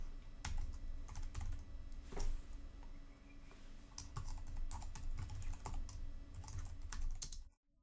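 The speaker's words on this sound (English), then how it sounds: "I'm going to type in the following." Code typed on a computer keyboard, with quick, uneven runs of close key clicks and occasional heavier strokes, continuing for several seconds before stopping abruptly, no voices.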